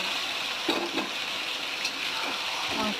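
Marinated spiced meat drops into hot oil with nearly browned onions and a split green chili, giving a steady, fairly quiet sizzle and crackle with a few soft stirring sounds.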